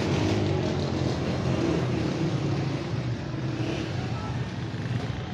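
Busy traffic in Kahuta bazaar on the night before Eid: a continuous, loud rumble of motorcycle engines and passing vehicles, with someone talking over the noise.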